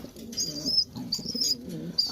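Domestic pigeons at a pigeon market coo in low, rolling repeated phrases, close and clear, with brief higher chirps mixed in and no talk.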